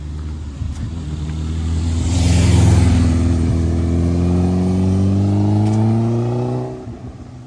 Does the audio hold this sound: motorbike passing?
yes